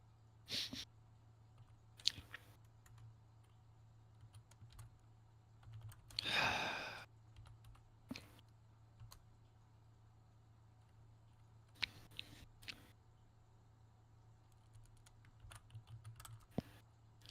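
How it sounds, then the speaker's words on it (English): Someone types on a computer keyboard in scattered short bursts of faint clicks over a low steady hum, with one louder breathy exhale in the middle. "I'm just typing"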